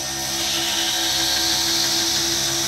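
A grinder with a 150 grit belt sharpens the edge of a round bar knife, making a continuous, loud, high whine with a steady tonal hum beneath it.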